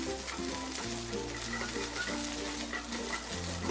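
Sauce with tomato ketchup and mustard paste stirred in a hot pan, a soft continuous sizzle and scraping beneath background music.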